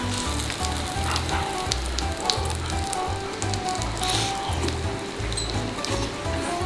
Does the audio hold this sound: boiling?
yes